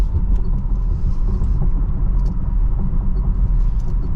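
A Lucid electric car accelerating onto the freeway: a constant low road rumble and tyre noise heard from inside the cabin, steady and fairly loud, with no talking.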